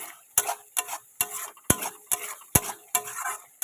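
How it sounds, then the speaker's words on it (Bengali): Spatula scrapes and clinks against a pan as masala for chicken chap is stirred and fried down, with sharp regular strokes roughly every half second over a soft sizzle, close and fairly loud. "মশলাটা কিন্তু ভালো করে এটা কষাবো।"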